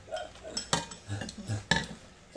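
Utensils scrape and clink against a pan while food is stir-fried in a home kitchen, with a few sharp metallic knocks and some soft murmured talk nearby.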